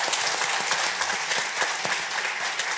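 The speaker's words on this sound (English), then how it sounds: "we should all give a warm applause to the" Warm audience applause for conference panelists at the DEFEA defence industry conference, a dense, steady roomful of clapping that carries evenly throughout with no voices on top.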